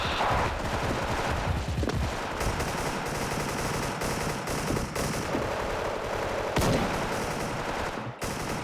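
Video game gunfire crackles in rapid bursts, automatic fire rattling almost continuously with a few sharper single shots and a sudden cutoff at the end.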